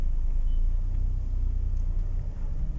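A car idles with a low, steady engine rumble as a learner driver eases off the brake and lightly presses the gas on a slope, with no clear rise in revs.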